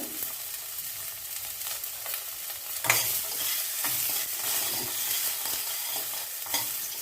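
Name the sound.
onion, mustard seeds and curry leaves frying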